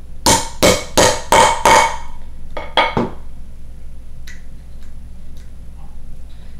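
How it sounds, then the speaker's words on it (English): A hole punch is hammered through leather backed by a granite slab while making an IWB holster. Five sharp, loud metallic strikes come in quick succession, followed by two more after a short pause, then near silence with faint small clicks. "Popped a nice little hole in it."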